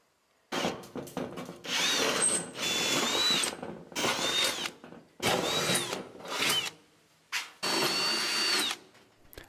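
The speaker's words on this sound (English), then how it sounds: "I clamped the sheets so that they were even along the bottom, and then drilled the overlapping holes" A power drill bores holes through overlapping, clamped metal heat shield panels at an off-grid cabin, in several short whining bursts separated by brief pauses, loud and close with no talking.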